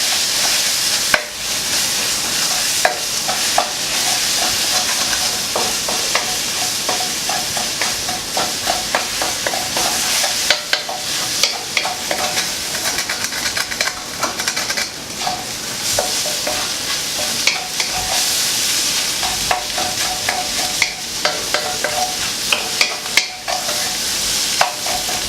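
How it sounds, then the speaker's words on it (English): Eggs with dill are stir-fried in a hot pan, a loud continuous sizzle broken by frequent scraping and clicking of a utensil as the food is broken up and tossed, with no talk. "Now, just break it and stir fry it."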